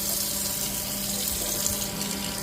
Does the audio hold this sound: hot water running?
yes